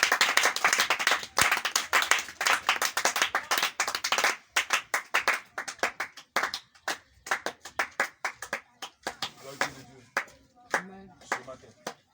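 A church congregation claps during a sermon, first in a dense loud burst of applause that thins into scattered, spaced rhythmic claps, with some faint voices underneath.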